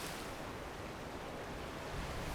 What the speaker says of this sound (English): Cut through the waves until you happen to come across something.